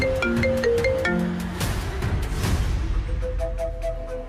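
An incoming call sets off a phone's melodic ringtone in a Malayalam TV serial scene, a loud repeating chiming tune that plays alone and close for the whole stretch.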